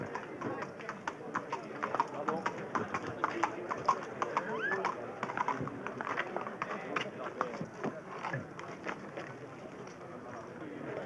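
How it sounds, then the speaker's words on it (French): Hooves of an Arab-Barb stallion clip-clop in a steady, fairly close running rhythm, with people talking over it throughout. "l'étalon barbe arabe, nerveux et résistant"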